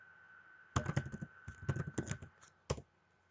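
Rapid clicking keystrokes on a computer keyboard while entering text into an Excel spreadsheet, several quick bursts of taps with a short pause and one final key press, close and fairly quiet.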